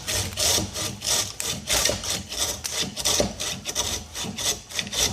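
A folding pruning saw, either a Silky Gomboy 300 or a Silky BigBoy 2000, or a 15-inch Sven bow saw, rasps through wood in short 2 to 3 inch strokes, a quick, steady back-and-forth rhythm of about ten close, loud strokes with no talking.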